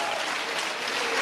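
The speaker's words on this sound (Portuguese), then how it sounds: "Eu quero uma melhor salva de palmas para Jesus, todos juntos." A church congregation claps together in praise of Jesus, a dense steady patter of many hands filling the space from start to end with no voices rising above it.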